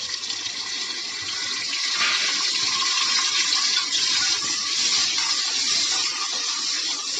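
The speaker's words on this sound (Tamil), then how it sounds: "இப்போ வெங்காயத்தை போடலாம்" Sliced onions sizzle in hot oil in a pan for mutton gravy, giving a loud, continuous hiss that swells slightly and holds steady throughout.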